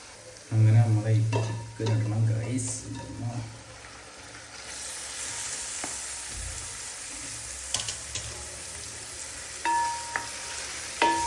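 Chicken dropped into a hot pan with oil, a loud burst of sizzling and clattering stirring, then a steady frying hiss with occasional scraping while people talk briefly.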